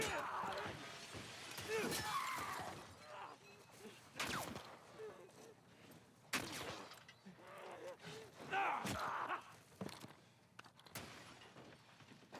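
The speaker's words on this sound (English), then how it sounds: "why does it sound like a bunch of glass is breaking?" Glass breaking in The Last of Us on grounded difficulty, several sharp shattering crashes scattered over a dozen seconds amid footsteps and movement, with a person talking over parts of it.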